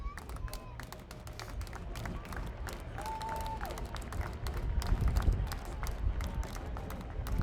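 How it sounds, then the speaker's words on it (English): Scattered clapping from a parade crowd at an Armed Forces Day parade, moderately distant and uneven, swelling slightly toward the end with light chatter mixed in. "Round of applause, please."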